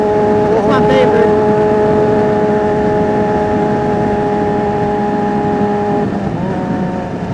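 A 600cc motorcycle's exhaust echoing loudly inside a tunnel, a sustained close droning roar with steady engine tones and a brief shift near the end, with a rider's voice over it.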